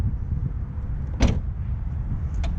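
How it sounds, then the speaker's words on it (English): The power lift gate of a 2019 Mini Cooper S whirs open with a low motor hum, marked by a sharp clunk midway and a lighter click near the end, close up and without talk. "power lift gate"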